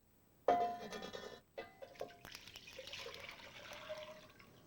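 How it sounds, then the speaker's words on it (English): Flavorful pot roast cooking liquid, skimmed of fat, is poured back into the pot, giving a sudden loud splashing gush that breaks off, then a softer, steadier trickle of liquid close by. "I can pour that back in."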